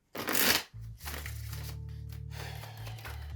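Oracle cards are shuffled close up, a quick riffling burst followed by soft sliding and tapping, with a low steady hum beneath.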